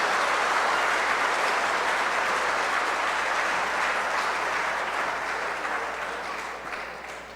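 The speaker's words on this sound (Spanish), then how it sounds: "Un aplauso a todos los migrantes." A church congregation applauds for migrants during an evening Mass, steady even clapping that fills the space and slowly fades toward the end.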